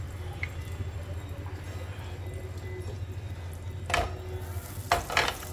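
Butter with a little refined oil sizzling in a pan for shahi paneer, a steady close hiss over a low hum, with a couple of brief clinks near the end and no talking.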